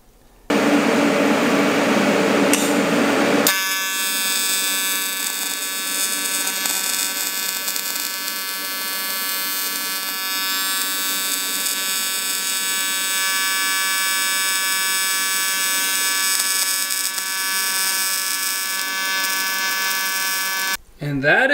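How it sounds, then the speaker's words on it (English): A welder runs steadily along the backside of an engine block, its sustained buzzing arc holding loud and even for nearly twenty seconds after a brief noisy start. "We'll just have to weld the backside too, I guess."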